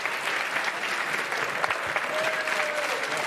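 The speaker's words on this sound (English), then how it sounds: "the well-deserved round of applause starts to come in for Leo Margette" A crowd at the World Series of Poker main event final table gives sustained, steady applause, moderately loud and continuous for the whole stretch.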